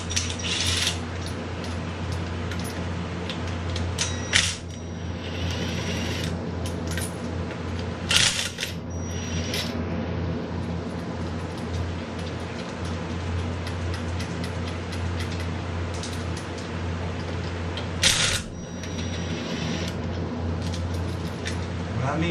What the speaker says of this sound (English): I can go ahead and use my impact socket and just do it lightly to get these off